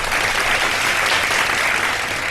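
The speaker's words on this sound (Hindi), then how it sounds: "बहुत सारी तालियां उम्मे हबीबा साहिबा के लिए।" A studio audience at a televised iftar show applauds, a loud and steady burst of many hands clapping together without a break.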